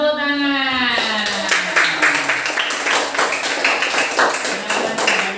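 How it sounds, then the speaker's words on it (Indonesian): A classroom of students applauding in a steady burst of hand claps that fills most of the clip, preceded by a teacher's voice, with the clapping close and fairly loud. "tepuk tangan."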